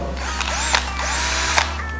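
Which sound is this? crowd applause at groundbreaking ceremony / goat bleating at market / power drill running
power drill running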